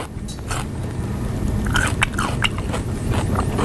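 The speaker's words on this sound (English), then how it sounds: "I don't need to hear you slurping your soda and chewing loudly" Someone chews loudly and slurps soda in a quiet room, producing close, wet, crunchy chewing and sipping sounds in an irregular rhythm, with no talking over it.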